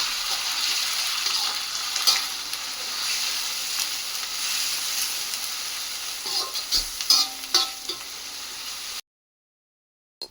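Green chilli paste with ginger-garlic paste and onions fries in a pan, a soft steady sizzle with occasional scraping stirs and a few louder clatters before cutting to silence.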